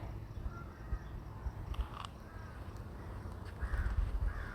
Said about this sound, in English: When you just hear the sound, the crickets, the birds